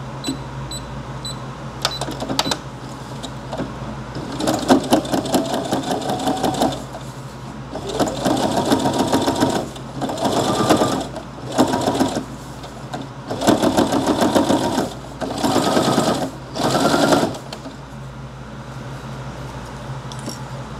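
A sewing machine stitches at a 0.2mm stitch length, running in loud, fast-chattering bursts of several seconds each, broken by short pauses, close up and with almost no talking.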